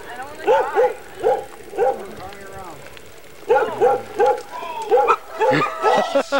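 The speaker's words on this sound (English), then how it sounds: "look at those pit bulls. It's a friendly dog." Pit bull dogs bark in repeated loud, sharp bursts, a run of several barks, a short pause, then another run, with people talking underneath throughout.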